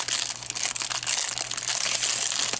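Plastic packaging crinkles and rustles as clear silicone nail stamps are unwrapped, a loud close run of dense crackling with no talking.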